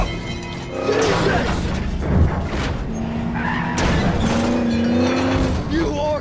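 Multiple car crashes from the film Need for Speed: screeching tires, revving engines and impact noises pile up in a loud, dense mix, with voices shouting over the chaos.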